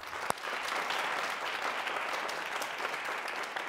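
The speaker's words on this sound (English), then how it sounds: "I think you deserve a round of applause." Studio audience on a televised debate contest breaks into continuous applause, a dense even wash of clapping with a sharp single clap near the start, moderately loud and free of talk.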